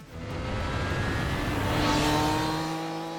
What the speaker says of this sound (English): a new, freer flowing exhaust has been fitted on both bikes